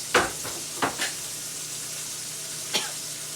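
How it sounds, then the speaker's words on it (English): Meat frying in a pan, a soft steady sizzle close by, broken by a few sharp clicks and scrapes of utensils against the pan. "see how fast my meat is frying up?"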